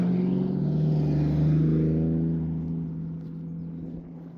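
Cars drive past along a rural road on Dartmoor, a steady engine and tyre drone that swells near the middle and slowly fades as the vehicles move away, with no talking.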